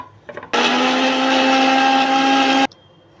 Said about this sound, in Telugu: ఇప్పుడు దీన్ని మిక్సీ వేసుకోవాలి